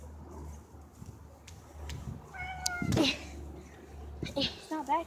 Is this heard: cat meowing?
yes